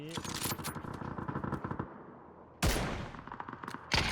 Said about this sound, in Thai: ต้องยิงวะพี่ ผมไม่ยิงไม่ได้วะมันอยู่ในรัศมี